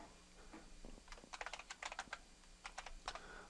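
Keys clatter on a computer keyboard as a terminal command for installing packages in Lubuntu is typed, quick bursts of close, quiet clicks with short pauses between them.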